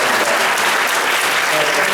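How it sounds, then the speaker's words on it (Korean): Applause from a studio audience welcoming a guest on a Korean baseball talk panel: dense, loud, continuous clapping throughout the brief moment. "박수로 맞겠습니다."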